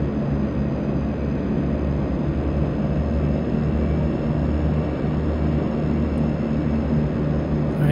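A DHC-6 Twin Otter's engines drone steadily in Flight Simulator X, a loud, constant broadband roar with a faint high whine, no talk over it.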